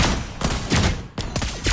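Lesley the sniper hero firing in Mobile Legends, several sharp, loud gunshot bursts in quick succession with brief gaps between them, close and dominant.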